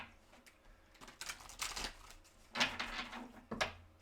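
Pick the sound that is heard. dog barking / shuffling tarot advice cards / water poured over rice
shuffling tarot advice cards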